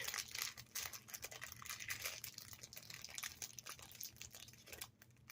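Plastic packaging crinkles and crackles steadily for several seconds, close and fairly busy, with short bursts of rustling and no voices.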